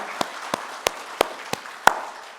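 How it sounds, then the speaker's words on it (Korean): A church congregation claps during an anniversary thanksgiving service: six sharp, evenly spaced claps ring out over a quiet room, the last one loudest. "우리 하나님께 감사와 영광의 박수 한번 드립시다."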